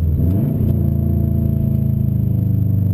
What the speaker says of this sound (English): Now let's enjoy the sound of this car.